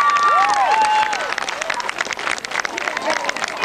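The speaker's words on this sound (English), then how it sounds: "you can give our boy Ryder a nice round of applause as well" Rodeo crowd clapping and cheering in an arena, a spread-out patter of applause under a rising whistle-like tone and an announcer's voice, then a looser, fading ripple of claps.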